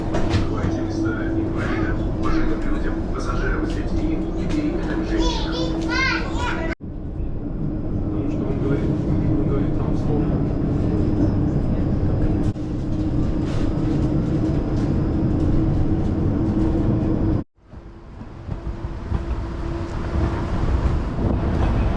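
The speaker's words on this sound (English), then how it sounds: "Okay, so that was the tram." A Moscow tram runs along Shabalovka Street, heard from on board as a loud, continuous rumble of wheels and motor with wind buffeting, broken by a couple of abrupt cuts.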